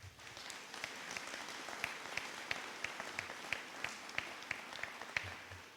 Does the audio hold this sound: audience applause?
yes